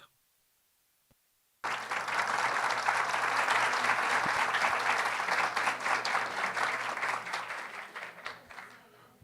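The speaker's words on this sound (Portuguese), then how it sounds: "com os aplausos eu vi que tem alguém aí" Audience applause after a talk on storytelling in internal communication, a faint knock, then a sudden burst of steady clapping from a crowd that carries on for several seconds and thins slightly toward the end.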